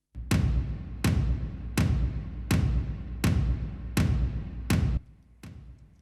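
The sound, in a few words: tom drum samples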